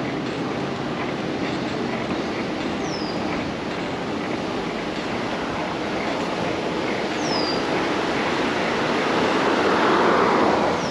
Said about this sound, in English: Wow, wind.